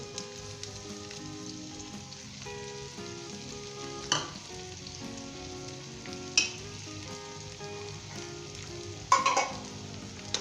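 Onions and ginger fry in hot oil for maash daal, giving a steady close sizzle throughout with occasional louder stirring scrapes.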